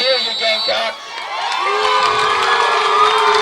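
Crowd cheering and whooping at a 2013 Providence vs New Brockton high school football game, a loud sustained roar of many voices that swells after a brief dip, with excited shouts rising over it.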